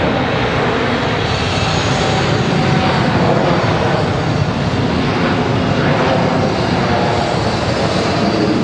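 An Etihad Boeing 787 Dreamliner departs Charlotte Douglas International, its jet engines producing a loud, close, continuous roar that holds steady throughout.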